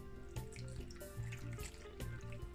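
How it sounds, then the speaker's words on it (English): About a cup of coconut water poured into a blender for a Jamaican fruit smoothie, a steady close liquid stream with splashing and gurgling, no talking. "I'm gonna add about a cup of this coconut water"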